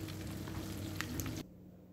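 Chicken for chicken manchurian frying in a pan, a close, steady sizzle with a low hum beneath and a few brief pops, cutting off abruptly near the end to leave only faint hum.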